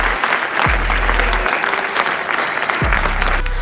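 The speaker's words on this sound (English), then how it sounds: "Mitch McConnell gives Ron DeSantis a standing applause" An audience applauds Ron DeSantis in a standing ovation, Mitch McConnell among those clapping, a loud sustained wash of many hands with faint crowd murmur and a couple of low thumps beneath.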